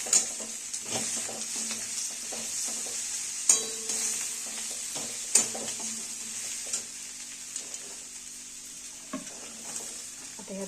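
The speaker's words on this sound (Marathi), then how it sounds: "सगळं टप्प्याटप्प्याने थोडं टाकत टाकत भाजून करूया." Chakvat and harbhara greens with ghevda bean pods frying in a pan for a village-style Bhogi vegetable dish, a steady sizzle with intermittent stirring scrapes and a few sharp utensil knocks, close and continuous.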